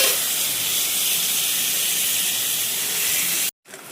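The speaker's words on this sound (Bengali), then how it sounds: "লবণ আর হলুদ দিয়ে আলুটাকে লাল লাল করে ভেজে নিই" Potatoes with salt and turmeric frying in hot oil, a loud, steady close hiss that holds evenly, then cuts off abruptly near the end.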